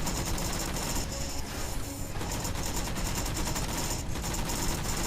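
Dense, continuous gunfire from the video game Halo 4, fired at enemies during a solo Legendary campaign mission; a loud, steady rattle of rapid shots with no pauses, no talk.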